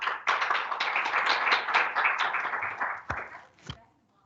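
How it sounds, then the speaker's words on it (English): Hands clap in a steady burst of applause from a small group at the close of an evening tech meetup, lasting about three seconds before tapering off into a couple of isolated final claps. "Hand clap, yeah."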